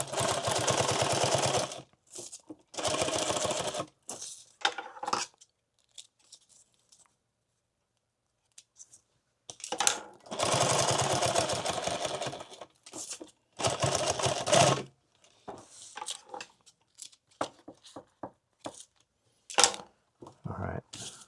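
A sewing machine stitches a microfiber glasses pouch in several loud, rapid bursts of rattling stitching up close, separated by quiet pauses and softer handling noises.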